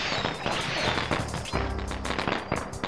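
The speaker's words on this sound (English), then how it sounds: "Fireworks! Ooh, look at that, so pretty." Fireworks burst in a video game as a rapid string of sharp crackling pops and booms, dense and loud, with no speech over them.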